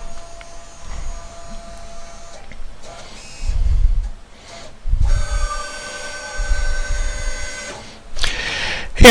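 A CNC machine measures tool length with a tool setter, giving a steady mechanical hum with thin tonal whines, broken by deep motor surges and brief clunks, and ending in a sharp hiss.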